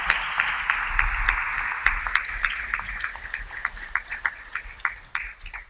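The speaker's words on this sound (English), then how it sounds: "Let's give them a round of applause" A small audience at a critical issues forum claps for the candidates and panelists, scattered individual claps that stay fairly close and grow sparser and more uneven toward the end.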